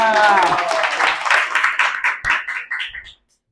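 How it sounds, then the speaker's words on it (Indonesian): Classroom applause during a micro-teaching Islamic religious education lesson, a burst of clapping over voices that thins into scattered claps and fades out after about three seconds. "tepuk tangan semuanya"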